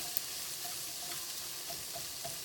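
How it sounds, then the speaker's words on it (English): Onion, garlic and red pepper sautéing in a pan make a faint, even hiss with a few light stirring taps, quiet and steady throughout. "So we're just going to saute up all this delicious onion,"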